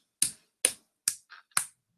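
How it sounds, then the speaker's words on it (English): A facepalm slap of a hand against a face, heard as four sharp, close slaps at an uneven pace with a softer fifth hit between them, each short and dry against silence. "That is the sound of me facepalming."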